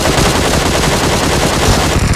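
M249 machine gun fire in a battle royale video game, a loud, dense and unbroken stream of rapid shots that fills the whole stretch with no voices.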